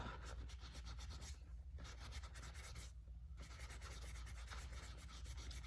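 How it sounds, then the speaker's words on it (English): A damp magic eraser rubs back and forth over grainy Louis Vuitton canvas, making a soft, continuous scrubbing and brushing sound, quiet and close, with short pauses between strokes. "I'm gonna go in with the part of the magic eraser that I had gotten damp and just go back and forth"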